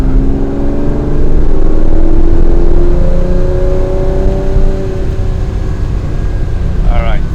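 A 1967 Ferrari 330 GTC driving with its engine loud and close, droning through sweeping pitch changes as it pulls and shifts gears, with faint speech mixed in.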